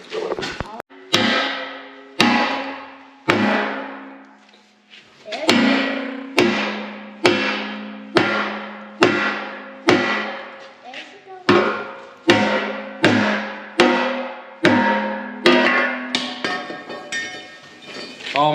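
Hammer striking metal on a manure tank to knock out a welded part, about fifteen loud ringing blows at a steady pace, close by and each fading before the next, with brief talk between strikes.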